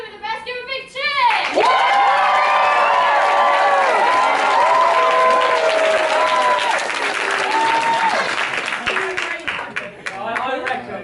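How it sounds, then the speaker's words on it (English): A large crowd of children and adults at an NCS summer programme event cheers and shrieks loudly with sustained applause, voices rising in long excited calls that fade slightly toward the end. "Give a big cheer!"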